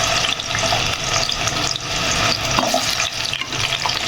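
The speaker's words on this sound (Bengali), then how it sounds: "এখানে কড়াইয়ের মধ্যে তেল দিয়ে দিয়েছি। এবার আমি এর মধ্যে আস্তে আস্তে সবজিগুলো দিয়ে দিব। সবার আগে দিয়ে দিচ্ছি আলু" Potato pieces dropped into hot oil in a wok for a mixed winter vegetable dish, giving a loud, steady, dense sizzle and crackle that fills the whole stretch with no pauses and no voices.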